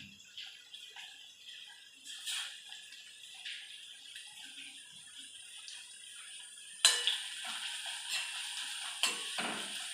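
Half an onion drops into hot oil in a home kitchen. A faint, quiet background sizzle with soft ticks jumps to a louder, brighter crackling fry partway through, heard close and without talking.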